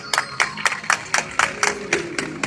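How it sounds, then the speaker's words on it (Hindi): Audience claps in a steady, even rhythm for children singing bhajans at an Ayurveda herb day event, about nine sharp claps in quick succession, fairly loud and close. "उनके लिए जोरदार ताली बजाओ।"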